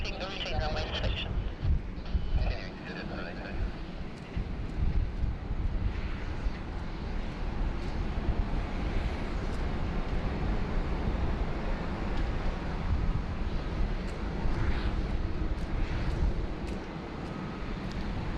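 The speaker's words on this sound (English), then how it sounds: "the Bamboo Airways 787-9 making their second appearance on the SydSquad live stream" A Bamboo Airways Boeing 787-9 approaching Sydney Airport gives a steady low jet rumble mixed with wind buffeting on the microphone, while a person talks over it throughout.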